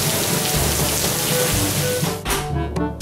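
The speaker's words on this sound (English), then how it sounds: "it's kind of raining out" Steady rain pours down, a dense hiss of drops pattering on a surface, continuous and fairly loud throughout.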